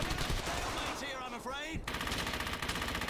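Gunfire from the World War II shooter Brothers in Arms: Hell's Highway: dense automatic and rifle bursts crackle loudly almost throughout, with a brief dip before the shooting resumes.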